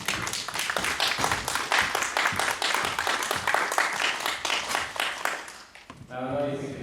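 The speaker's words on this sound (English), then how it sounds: "Camera round of applause for Emma Dark." A crowd claps for a panel guest at the Scifi Wales sci-fi convention in 2016, a brisk run of sharp, distinct hand claps that fades near the end, when a voice begins speaking.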